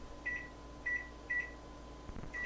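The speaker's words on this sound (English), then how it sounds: "Okay, so I'm going to put my timer on for 20." A kitchen timer gives four short, bright electronic beeps spaced about half a second apart while it is being set, quiet and close in an otherwise still kitchen.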